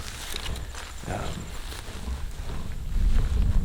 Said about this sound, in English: Wind has picked up significantly, so I can cruise a little bit faster now.